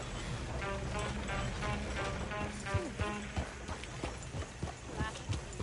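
Hooves of the horses pulling a coach in Red Dead Redemption 2 clop in a steady trotting rhythm, with the rattle of the moving coach underneath, moderately close and fairly quiet.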